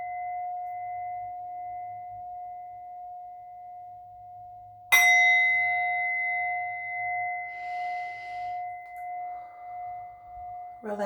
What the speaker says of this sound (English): I'm going to hit the singing bell.